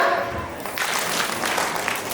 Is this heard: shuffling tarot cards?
no